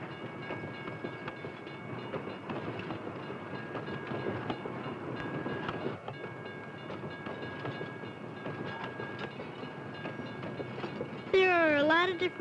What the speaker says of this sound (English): You can also see goods being moved on a train.